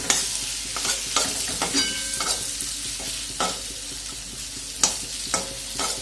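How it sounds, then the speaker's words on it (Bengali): Egg- and gram-flour-coated chicken pieces frying in oil over a low flame, with a steady close sizzle broken by distinct clinks and scrapes of stirring, and no one talking. "একটু লো ফ্লেমে ভেজে নেবো এটা ভালো করে, যাতে মাংসর ভেতরগুলোও সেদ্ধ হয়ে যায়"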